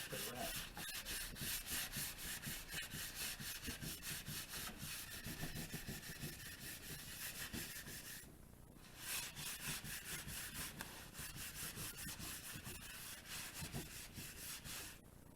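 Steady rhythmic rasping strokes of sandpaper on wood, close up and continuous, with a brief pause partway through.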